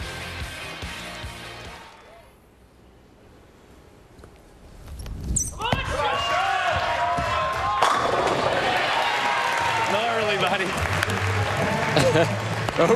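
A crowd at the PBA World Championship bowling event in Las Vegas breaks into applause after a quiet stretch, the clapping and cheering swelling and holding steady under a commentator's voice.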